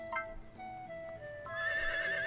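In the Harvest Moon farming game, a horse whinnies and hooves clip-clop softly, game tones chiming over quiet background music.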